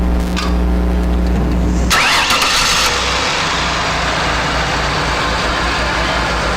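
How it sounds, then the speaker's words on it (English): A 2001 Ford Taurus engine cranks and fires about two seconds in, then settles into a steady, loud idle with no talking. "You can go ahead and start the car."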